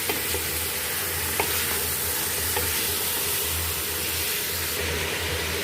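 One kilogram of beef sizzles and fries in a pot for a beef malai handi, a steady hiss of hot fat with occasional soft scrapes and knocks of stirring, close and continuous, with no talking.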